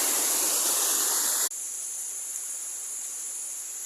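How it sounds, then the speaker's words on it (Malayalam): Water from the Miniyootti waterfall and a forest stream runs over rocks in a steady, loud broadband rush, then abruptly drops to a softer, more distant flow halfway through, with no voices. "ഇതാണ് മക്കളെ നമ്മുടെ നാട്ടിൽ മിനിയൂട്ടി വെള്ളച്ചാട്ടം എന്ന് പറഞ്ഞതാണ്."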